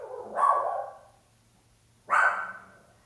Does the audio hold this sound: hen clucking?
no